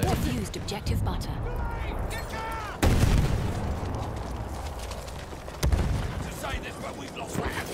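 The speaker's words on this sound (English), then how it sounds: "I know that's an anti-tank grenade, but I love the boom." Anti-tank grenade explosion in Battlefield 1: a loud boom bursts out near the three-second mark, then a second blast follows around five and a half seconds, both over a busy battlefield din with distant gunfire and voices.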